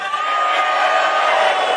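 A loud, steady roar of a big audience cheering and whooping at the SGDQ 2023 speedrun event, a dense unbroken crowd wall of sound with no pauses for the full short stretch.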